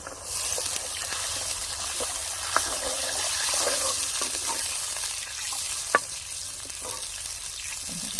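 Masala sizzles and crackles steadily in hot oil in a pan for egg curry, close and continuous, with occasional stirring clicks and scrapes.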